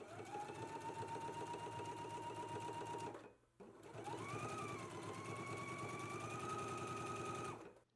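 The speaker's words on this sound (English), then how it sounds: "So let's go ahead and do some top stitching now." A home sewing machine topstitches a quarter inch from a dress seam, running in a fast, steady mechanical rattle with a brief pause partway through before starting again.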